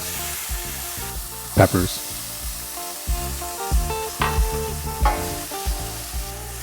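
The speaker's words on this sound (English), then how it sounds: "Saute for 2 to 3 minutes." Tofu, peppers, shallots, garlic and ginger sauté in grapeseed oil, hissing and crackling in uneven bursts as they are stirred, under background music, with a brief spoken word.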